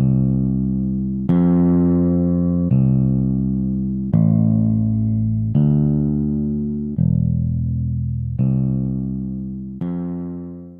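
Castle from a fan-made My Singing Monsters island plays a repeating musical phrase of sustained, harmonically rich synth-like notes, eight or so loud swells with fresh attacks every second and a half, alone without talk.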